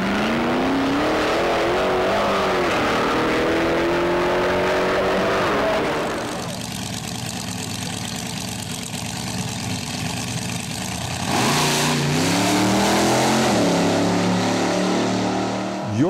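Gasser drag racing cars at National Trail Raceway outside Columbus, Ohio, their engines revving loudly and nearby with a rough idle between throttle blips and a long sustained roar in the middle section.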